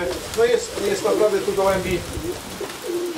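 Racing pigeons in a loft, readied for winter flights, coo softly and repeatedly under someone speaking Polish nearby, their low rolling calls continuing throughout.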